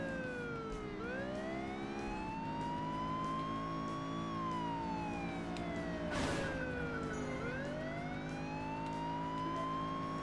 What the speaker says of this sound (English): I don't guess there's a way to turn the siren off.